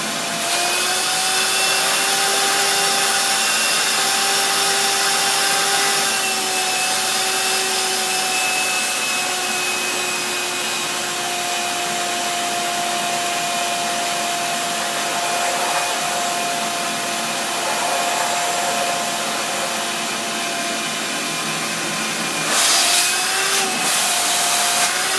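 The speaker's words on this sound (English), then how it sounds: "you use the shop vac to drain the dishwasher" A shop vac drains water from a dishwasher, a steady loud whooshing motor roar with a constant tonal hum running throughout, close up and alone, with a brief gurgling surge near the end.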